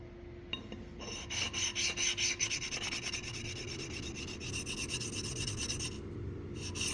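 Small homemade clamps are rubbed to remove residue, with a steady, close, rhythmic abrasive scrubbing in quick repeated strokes that continues at moderate level throughout.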